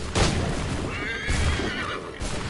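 A horse in the video game Assassin's Creed III gives a loud, close whinny lasting a couple of seconds, with a second shorter snort-like neigh near the end, heard alone without talk.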